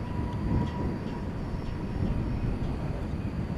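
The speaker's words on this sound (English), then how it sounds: "It's an Airbus A321." Airbus A321 jet at DFW airport at night, a low, steady engine rumble heard from a distance, continuous with no voices.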